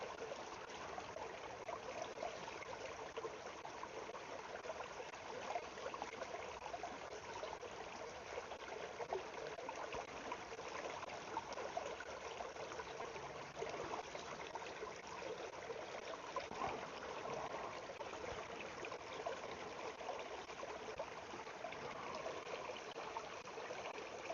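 Bleach and peroxide mixed into water bubble and fizz steadily in a container, a continuous soft hiss of tiny popping bubbles lasting throughout, close by and fairly quiet, with no voices.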